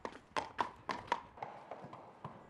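A horse's hooves clip-clop in a quick, even rhythm, crisp at first and then growing softer as the steps slow and fade at a training area in Hungary.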